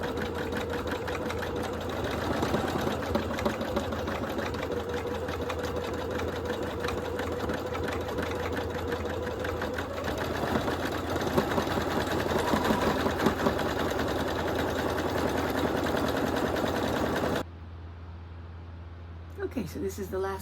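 An embroidery machine stitches a face design with a fast, steady mechanical chatter and rhythmic needle clatter, close and continuous until it stops abruptly near the end; people talk softly over it.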